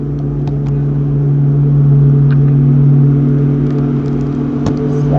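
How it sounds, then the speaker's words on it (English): A lawnmower runs outside with a steady engine drone, a constant low hum heard from some distance, with faint clicks and small taps closer by. "I don't know if you guys can hear the lawnmower outside."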